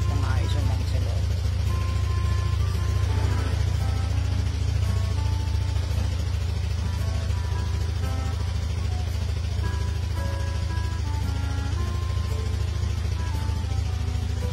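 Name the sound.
Honda PG-1 motorcycle engine idling to warm up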